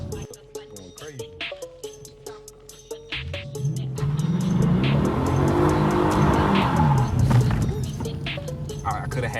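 A Mustang GT engine revs and roars while street drifting, rising from choppy bursts to a sustained loud drone with tire noise, close by, with voices talking over it.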